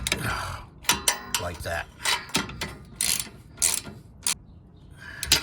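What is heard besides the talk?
socket wrench ratcheting to reattach bolts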